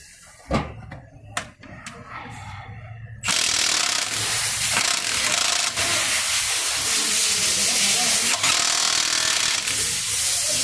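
A Milwaukee 2864-20 3/4-inch impact wrench with a 33 mm socket removing wheel lug nuts: a few sharp clicks and knocks, then a loud, sustained, close hammering roar that carries on to the end.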